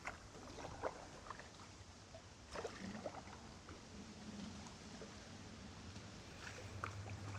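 A canoe gliding along a shallow creek near a footbridge, with soft paddle dips, gentle water lapping against the hull and faint knocks, close by and steady with no voices.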